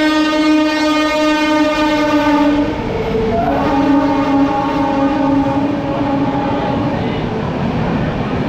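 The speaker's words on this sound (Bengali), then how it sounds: "মুম্বাই দুরন্ত বেরিয়ে যাচ্ছে, হাওড়া মুম্বাই দুরন্ত এক্সপ্রেস।" The Howrah–Mumbai Duronto Express departs, its horn holding a long, loud multi-tone blast, then sounding again over the steady roar of the moving train, close by throughout.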